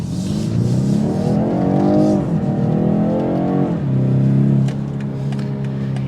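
A 2023 BMW 430i Coupe engine revs up loudly, climbing in pitch, dropping briefly, then surging again before settling into a steady rumble, close and alone.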